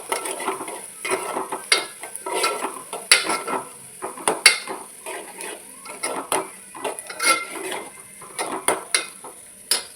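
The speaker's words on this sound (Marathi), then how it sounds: "हा कांदा व्यवस्थित आपण तेलामध्ये फ्राय करून घेणार आहोत." Chopped onion frying in oil in a pan with a pinch of asafoetida, crackling steadily as a spoon stirs and clinks against the metal in an irregular rhythm, close up with no talking.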